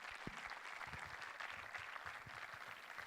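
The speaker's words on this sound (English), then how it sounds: "So can we give a big round of applause for this great achievement?" Audience applause at a university event in Pune, a steady patter of clapping hands spread across the room, fairly faint and sustained for the whole moment.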